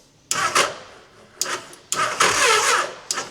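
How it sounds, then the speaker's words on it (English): A Hayabusa motorcycle engine fitted in a K11 Nissan Micra cranking from a boost pack, several short bursts of whirring starter motor separated by pauses, close and loud, never catching. "That boost pack's not got enough to spin it, innit?"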